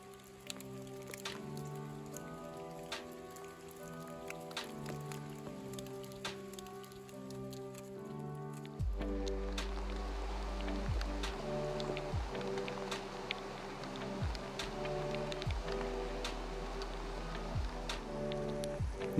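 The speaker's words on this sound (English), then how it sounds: "It rained so much while we were there" Rain falls steadily on a surface nearby, with scattered clear drops and ticks standing out over a soft wash; the patter grows denser partway through and carries on with no voices.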